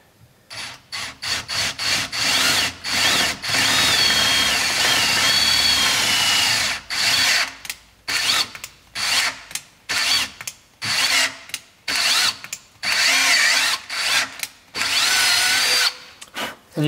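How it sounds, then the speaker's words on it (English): A power drill taps 6 mm threads into wax-lubricated aluminium for a boat build, whirring in repeated short bursts, starting and stopping in an uneven rhythm, loud and close with no talking. "grab your 6 mil drill and tap and just put a bit of wax on there to lube it up."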